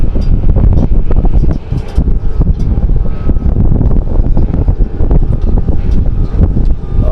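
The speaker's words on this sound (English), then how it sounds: "it's windy where I'm at. It's got to be really windy up there." Loud, continuous wind buffeting the microphone at a Las Vegas stadium construction site, rough low rumbling gusts throughout with no voices.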